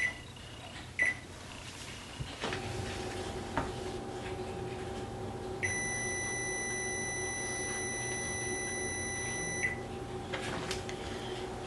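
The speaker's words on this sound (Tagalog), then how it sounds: "At isa-set natin yung ating timer to 45 minutes." Electronic beeps from an oven timer being set to 45 minutes for baking raisin bread, a few short key beeps followed by a sustained steady tone over a low kitchen hum.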